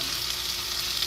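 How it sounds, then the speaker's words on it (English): Food fries in a hot pan with a bright, steady sizzle, close and constant throughout with no talking over it. "It's sizzling up. Let's see that thing is frying real nice."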